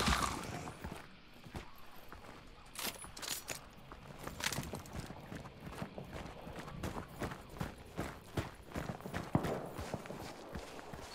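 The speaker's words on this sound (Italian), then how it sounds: "Mi è sembrato di sentire un cavallo" Horse hooves clip-clopping in the video game Hunt: Showdown, an uneven series of soft hoof thuds at a walking pace, fairly faint and somewhat distant against a quiet ambient background.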